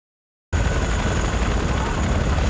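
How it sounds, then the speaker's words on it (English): Helicopter in a Counter-Strike single-player mission, a loud continuous rotor and engine roar that starts abruptly after a brief silence and holds steady with no voices. "So we start out on a helicopter, which reminds me of the old Call of Duty games a lot"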